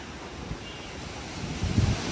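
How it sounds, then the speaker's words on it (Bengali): Strong outdoor wind ahead of a storm roars steadily as a broad, rushing noise buffeting the microphone, with a few louder gusts near the end. "কি বাতাসে ভাই"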